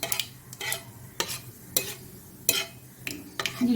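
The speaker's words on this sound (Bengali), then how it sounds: "জিরেটা একটু ভাজা হয়ে গেলে" Whole cumin seeds with two bay leaves frying in a pan of hot oil, stirred with a utensil that scrapes in regular strokes roughly every half second over a soft sizzle, close and fairly quiet.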